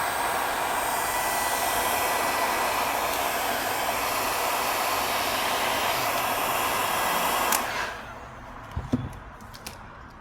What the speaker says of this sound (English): we do need to use a heat gun again